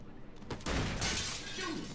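Glass shattering in the video game Alan Wake as a character lands on a pane, a sudden loud crash with a bright spray of shards that rings on and trails off.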